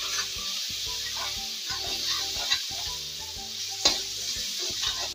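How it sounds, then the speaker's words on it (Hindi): A paste of ginger, garlic, green chili, cumin and black pepper fries with onions in a pan for spicy banana flower bhujia. A steady close sizzle runs throughout, broken by irregular stirring scrapes and a few sharper knocks, with no voices. "मैंने यहाँ पे अदरक लहसुन हरी मिर्च और जीरा मरीच का मैंने पेस्ट तैयार किया है, इसको डाल दे रही हूँ।"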